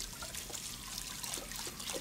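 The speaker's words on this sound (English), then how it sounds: "Let's wash them dishes" Water runs and trickles steadily while dishes are washed in the Captain Spirit video game, a close, continuous splashing stream lasting the whole stretch with no talk over it.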